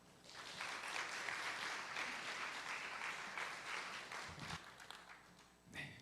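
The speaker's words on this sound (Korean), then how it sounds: "나오실 때 큰 박수로 환영하겠습니다." A church congregation claps to welcome a pastor at an evening men's devotional worship service, steady moderate applause swelling quickly, holding, then thinning and fading out near the end.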